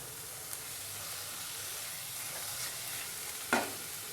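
Kasuri methi going into a sizzling palak corn curry with tomato puree, producing a steady close frying hiss and bubbling with a soft stirring scrape and a brief sharp sizzle burst near the end.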